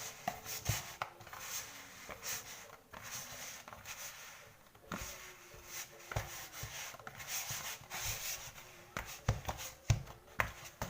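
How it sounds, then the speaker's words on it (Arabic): Bread dough for Egyptian-style fino bread, punched down by hand after rising: soft repeated slaps, presses and rubbing thuds in an irregular rhythm, close and fairly quiet, with no talking. "كده بقى ههبط العجينة بتاعتي"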